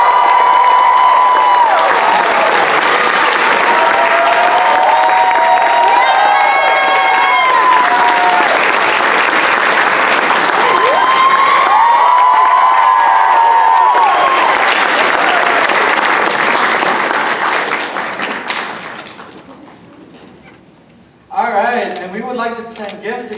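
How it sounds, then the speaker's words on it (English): A large crowd at Stanford's Pilipino Cultural Night gives loud, sustained applause with cheers and whoops for the live folk musicians of Kayumanggi Folk Art. The clapping fades out near the end, and then a voice speaks briefly. "We also want to give a huge round of applause to our live musicians tonight, Kayumanggi Folk Art"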